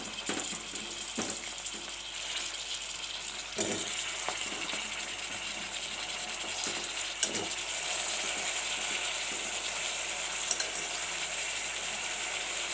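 Ground potato paste frying in a pan for veg pulao, a steady close sizzle with occasional scraping stirs and soft clinks throughout, no voices.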